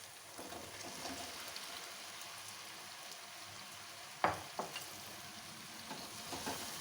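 Capsicum frying in a spiced oil tadka, a soft continuous sizzle with a few sharp stirring scrapes and clicks partway through, fairly faint and close.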